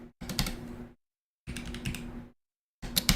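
Rapid clicking keystrokes on a computer keyboard that sometimes glitches, arriving in three dense bursts separated by brief silent pauses, close and clear with no talking.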